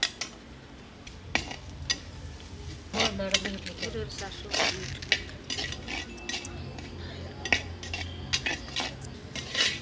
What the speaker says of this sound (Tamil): தேங்காய் வந்து எண்ணெய் இல்லாமல் போட்டு வறுத்துக்கலாம்